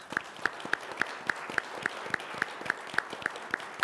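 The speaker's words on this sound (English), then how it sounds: "And one more round of applause for our presenters." An audience at a clinical talk on prostate cancer claps for the presenters, a steady, evenly paced run of sharp claps, fairly faint and distant, without voices.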